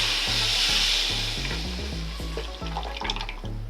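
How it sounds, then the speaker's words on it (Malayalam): Tamarind water goes into a hot pan of oil for ginger pickle. It starts with a loud hiss and sizzle, then moves to a lower bubbling crackle with rhythmic clunks from the pan underneath. "ഒരു ചെറിയ ബോളിൻ്റെ വലുപ്പത്തിൽ പുളി പിഴിഞ്ഞ് വെച്ചിരിക്കുന്ന വെള്ളമാണ്. ഇത് നമുക്ക് ഇതിലോട്ട് ഒഴിച്ചു കൊടുക്കാം."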